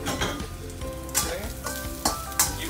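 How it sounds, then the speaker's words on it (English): Ginger stir-fried in hot oil in a wok gives a steady close sizzle and frying crackle, broken by a few sharp scrapes and clanks as the spatula stirs. "Okay, give it a few stir. Let the oil infuse with the ginger flavor."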